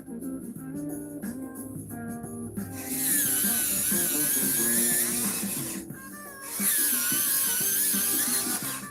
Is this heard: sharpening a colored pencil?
yes